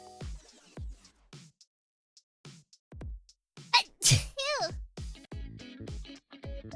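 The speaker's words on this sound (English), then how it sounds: "I still got sneezes." Several sharp sneezes burst out between short stretches of nearby talking, loud and abrupt.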